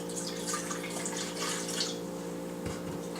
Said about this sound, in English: make up for the other 3 ounces with some seltzer water